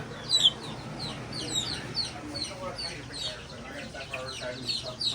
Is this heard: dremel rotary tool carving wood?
no